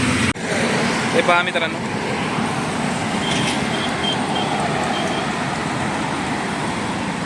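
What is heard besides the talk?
highway vehicle traffic heard from an auto rickshaw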